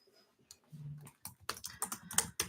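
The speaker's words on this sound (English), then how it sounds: "Let me type my email address in" An email address is typed on a computer keyboard nearby: a few hesitant clicks first, then a quicker run of crisp keystrokes in short bursts, with no talking.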